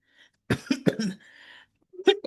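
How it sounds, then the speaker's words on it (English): A few sharp, close coughs in quick succession, followed by a pause and then another short cough. "I don't know why I'm starting to cough"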